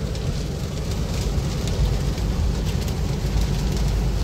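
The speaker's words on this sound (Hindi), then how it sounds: "बारिश हो गई है बहुत तेज ड्यू टू रेनी सीजन" Heavy monsoon rain pours onto a street in Delhi, a loud, dense, continuous hiss with low rumbling underneath and no voices.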